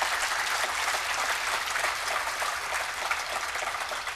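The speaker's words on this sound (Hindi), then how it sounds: "और अगर ताली भी बजाओ तो दोनों हाथों से" Dense applause from an audience clapping with both hands, a continuous loud wash of claps held evenly throughout the few seconds with no speech over it.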